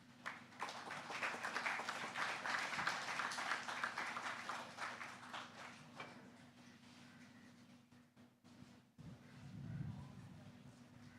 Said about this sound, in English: I think we need to give that another round of applause